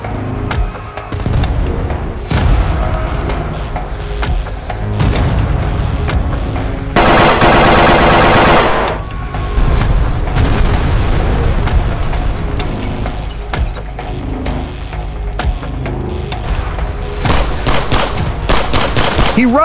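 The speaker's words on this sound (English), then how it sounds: "one man is trapped inside a city consumed by fire, explosions, and gunfire." Dense World War II city combat: rapid machine-gun bursts and gunshots throughout, with a loud sustained blast or roar midway and heavy booming explosions, close and intense.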